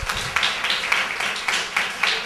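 Applause for a youth football team at a club's end-of-season closing ceremony, a group clapping with a few distinct sharp claps standing out in an uneven rhythm, moderately close.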